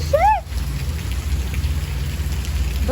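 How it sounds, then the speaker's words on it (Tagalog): Steady rain falls close by as a dense, even hiss, with a few brief rising whistle-like chirps near the start and again at the very end. "Nag-ulan na."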